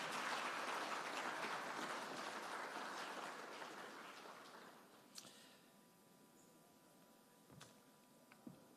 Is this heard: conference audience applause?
yes